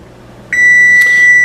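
A kitchen oven timer sounds a single sustained electronic beep that starts abruptly partway through and holds loud and steady to the end, with no talking.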